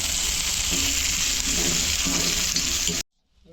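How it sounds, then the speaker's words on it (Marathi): Onion frying in a pan for a Konkani Malvani-style brinjal bharit, a loud, steady close sizzle with faint stirring scrapes, cutting off abruptly into near silence. "कांदा लवकर भाजला पाहिजे मी."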